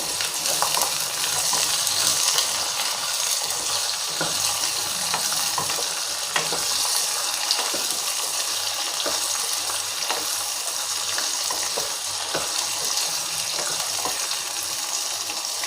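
Karonda fruit slices sauté in hot oil in a pan for a Marathi-style karonda chutney, a steady loud sizzle with faint scraping stir clicks scattered throughout, close and alone with no voices.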